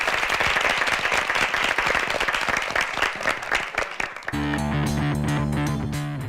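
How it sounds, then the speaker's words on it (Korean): Applause for two teams at a high school debate competition, a crisp crowd of clapping with distinct claps audible, then fading as sustained music takes over for the last couple of seconds. "두 팀에게 박수 한번 부탁드리겠습니다."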